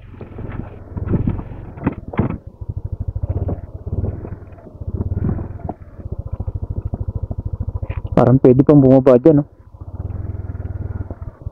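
Motorcycle engine idles in a steady close putter at a hillside view deck above rice terraces and a waterfall, running through most of the clip with gusts of wind on the microphone while someone talks over it.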